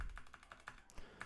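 Fingers tap on a computer keyboard at a trader's desk, a quick run of evenly spaced light clicks, close and faint, with no talk over them.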